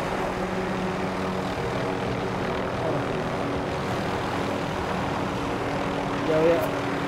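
In the video game Call of Duty: Modern Warfare 3, a helicopter's rotor and engine drone steadily and continuously at moderate loudness, with a brief swell near the end.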